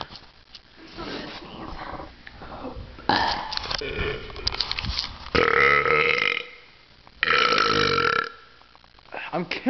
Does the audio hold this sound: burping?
yes